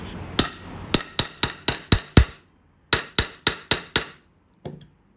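Sharp metallic hammer strikes on a hole punch, piercing a hole while making a mini zip purse, in two quick rhythmic bursts of about seven and five blows, loud and close, followed by one lighter tap.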